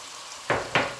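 Chopped tomatoes drop into a pan of frying ginger-garlic masala for a dhaba-style mash daal, giving two short, close sizzling bursts over a low background hiss.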